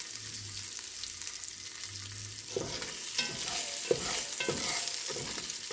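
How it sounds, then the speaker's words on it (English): Onions go into a hot pan after browned sausage, setting off a sudden loud sizzle that keeps crackling with the scrape of stirring, following a quieter stretch of low hum. "And I'm going to add my onions."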